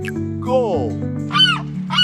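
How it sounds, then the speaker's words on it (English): A gull gives two loud, close, harsh rising calls, each about a quarter-second long, over a steady musical backing. "Gull."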